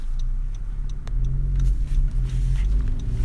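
A 2017 Honda Civic Si coupe in sport mode pulls hard from inside the cabin, a steady low engine drone rising slightly as it accelerates, with faint ticking over the rumble.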